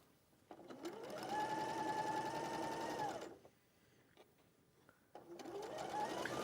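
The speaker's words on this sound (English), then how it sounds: "just sewing that seam" Domestic sewing machine stitching a central quilt seam, its motor whirring steadily for several seconds, stopping briefly, then starting up again; close and fairly loud, with no talking.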